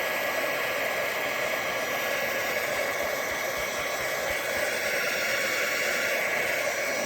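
Handheld dryer blowing to dry craft paint on a small kintsugi house model, a continuous loud, even whooshing roar running steadily throughout with no pauses.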